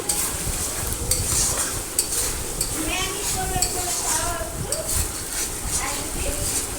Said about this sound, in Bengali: মশলাটাকে কষিয়ে নিব ভালো করে, নাড়াচাড়া করছি এখনও